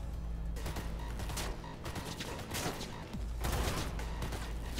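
Rapid bursts of gunfire from flame rounds in the video game Cyberpunk 2077, loud and dense, with overlapping volleys across the whole stretch and a short lull in the middle.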